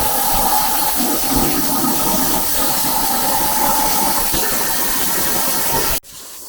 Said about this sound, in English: Got the plasma table going.